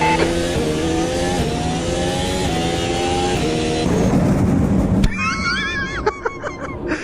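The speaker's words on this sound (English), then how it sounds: "I've blown the engine out." An F1-style race car engine in Automobilista 2 howls at high revs, its pitch sliding down in steps, then gives way abruptly to rough, crackling, sputtering noise as the engine blows out.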